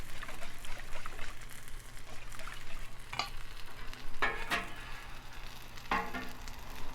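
Cheese being stirred into a thickening Alfredo sauce on a Blackstone griddle, with a soft steady sizzle under a few sharper scraping strokes of the utensil.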